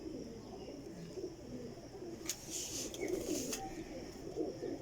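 Pigeons cooing softly in a loft, with low, repeated coos over a steady background murmur and a few brief sharper chirps, no clear speech.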